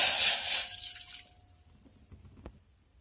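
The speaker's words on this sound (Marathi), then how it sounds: "त्यामध्ये मी अर्धा कप पाणी घालून घेते।" Half a cup of water is poured into a pan on a gas stove for tea, a short splashing burst up close that quickly fades to a few faint drips and quiet.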